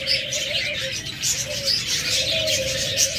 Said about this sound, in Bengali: তাছাড়া এই পাশে আরেক জোড়া লাভবাট আছে